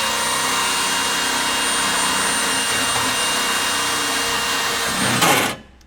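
A power drill bores steadily through the old cradle of an Eclipse car under restoration, a loud continuous whine holding for about five seconds before it cuts off abruptly.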